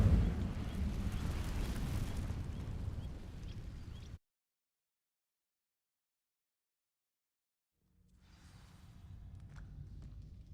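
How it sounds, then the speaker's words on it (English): The Incendio fire spell in Hogwarts Legacy ignites dry vines with a loud whooshing, crackling burst that roars for a few seconds, cuts off into silence, then gives way to a quieter rumbling ambience. "These dry vines are one spark away from becoming kindling. Incendio!"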